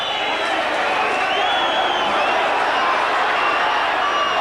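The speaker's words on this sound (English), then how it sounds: "what a transformation in a ground in Tynecastle when you get a big crowd like this" A big football crowd at Tynecastle, about 17,000 strong, produces a constant broad roar heard under a commentator's voice, steady and loud with no breaks.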